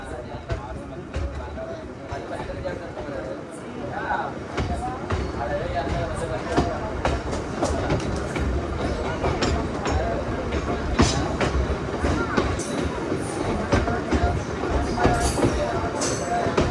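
A Bhimavaram–Vijayawada MEMU train, number 67282, runs at night past stations it does not stop at, with a steady close rumble and rhythmic clickety-clack of wheels. Voices can be heard in the coach under the train noise.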